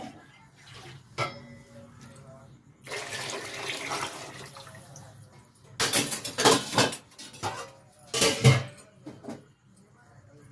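Bagara rice is tipped into a pot of water and stirred, with irregular metallic scraping, clinks and wet splashing bursts that come in loud clusters between quieter stretches. No voices are heard.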